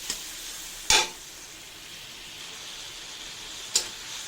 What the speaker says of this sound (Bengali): একটু ভেজে নিই,